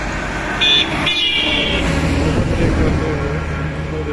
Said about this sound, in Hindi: देखिए बहुत लोडेड ट्रक आ रही है और एक गैस टैंकर है।